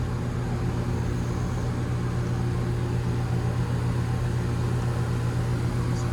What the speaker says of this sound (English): So let's plug the disconnect in and see if she starts.